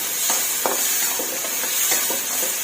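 Minced pork with shiitake mushrooms and baby corn stir-frying in a pan, a steady close sizzle with a few soft scraping stirs breaking through.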